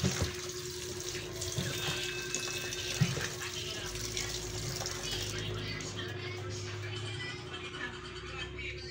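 Tap water runs steadily into a sink while string beans are rinsed, a continuous close splashing flow with a faint hum underneath and a brief louder splash near the start, occasional voices in the background.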